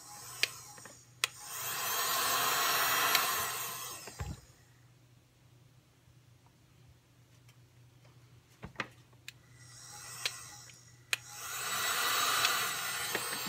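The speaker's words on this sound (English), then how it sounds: "the heat gun can be used to smooth the prints themselves" A heat gun blows on ABS 3D prints in two steady hissing bursts of airflow with a quiet gap between them, close and moderately loud, with small sharp clicks and taps scattered throughout.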